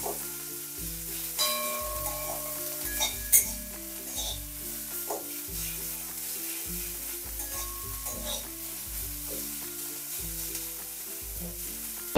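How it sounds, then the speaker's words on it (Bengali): Chopped onion fries in a pan after black cumin seeds are tempered, a continuous close sizzle with light stirring scrapes and a low repeating background pattern, no talk. "পেঁয়াজটাকে এবার লাল লাল করে ভেজে নেব।"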